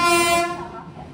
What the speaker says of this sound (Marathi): आमची ट्रेन आता आलेली आहे.